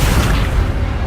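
An Accio spell cast in the Hogwarts Legacy video game gives off a short, deep booming rush with a bright swishing edge that fades over about a second.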